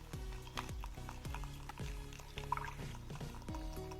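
Baking soda is stirred into a small amount of water with a spoon, giving a quiet, regular scraping and clinking about every half second against the bowl.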